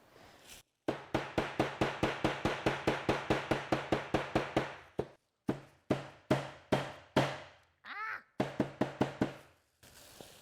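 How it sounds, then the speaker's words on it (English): A hammer pounds flowers through a plastic sheet onto a shirt for natural dyeing, giving a long run of sharp, evenly spaced thuds close by, then a brief pause and a few slower blows. "I'm gonna go ahead and pound the flowers to get more color out of them."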